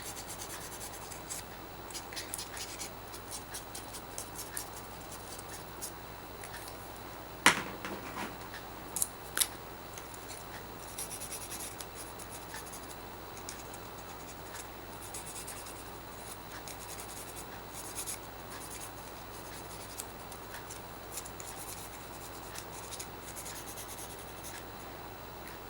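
Colouring being applied to white crepe paper for making paper flowers: faint, soft scratchy rubbing strokes that continue steadily, with a few sharper clicks early on and no talk.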